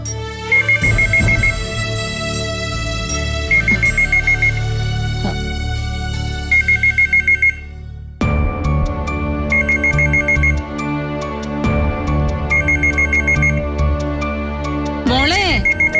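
A telephone ringtone sounding in a home scene from a Malayalam TV serial, a loud repeating electronic ring pattern with short gaps, continuing in bursts across the whole stretch.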